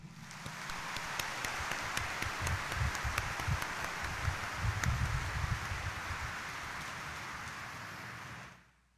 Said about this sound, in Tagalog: iparinig natin ang mas malakas na palakpak